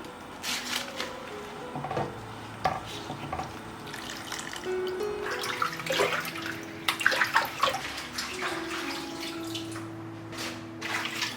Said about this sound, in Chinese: 粽叶用开水烫软，然后清洗干净，记得要把头尾剪去。